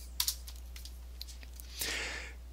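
A few quick keystrokes on a computer keyboard as a Linux terminal command is typed, light clicks spaced apart, then a brief soft rustle, close and fairly quiet.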